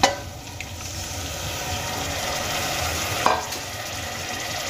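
Grated tomato drops into onion and ginger frying in a pan for an egg curry, giving a steady sizzle with a short splat near the start and another midway, no talking.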